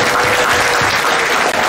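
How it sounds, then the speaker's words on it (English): Loud, close applause fills a room at a fraternity Father's Day scholarship brunch, a brief dense burst of clapping from the crowd for a hip-hop artist being introduced. "Yes, please clap that up."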